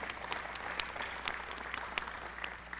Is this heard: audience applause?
yes